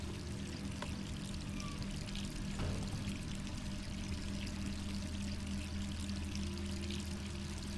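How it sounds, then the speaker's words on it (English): Steady, continuous rush of pouring water from the Resident Evil 3 Remake video game, a constant broadband wash holding at an even level throughout with no speech over it. "Water effects could be a little better"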